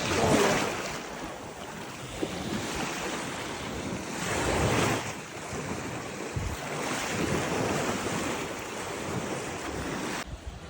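Sea waves washing onto a beach, a continuous roar of surf rising and falling in slow swells, with wind buffeting the microphone throughout and no talking.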